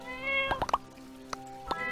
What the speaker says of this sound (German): Du tolle kleine Katze